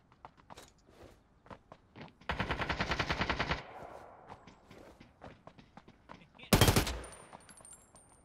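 Rapid video game gunfire: a sustained automatic burst mid-way, then a single sharp loud shot near the end, set among scattered footsteps and faint game noises.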